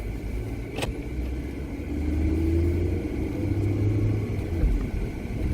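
A car drives along a road in Hesse, central Germany, its steady engine rumble and road noise heard from inside, swelling slightly as it speeds up, with a brief click near the start.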